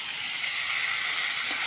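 Spice masala fries with potatoes in a pan for a katla fish curry with cauliflower, giving a steady, close, unbroken sizzle with no voices.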